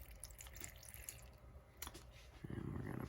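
Water poured into a quail egg incubator, about 100 milliliters, sounding as a soft running trickle that grows fuller and louder near the end, heard up close with no talking.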